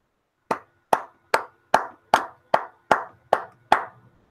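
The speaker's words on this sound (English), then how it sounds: "Applaud that man." Slow, deliberate clapping on a sports talk show: nine crisp, evenly spaced claps about half a second apart, close and distinct, each ringing out briefly into silence.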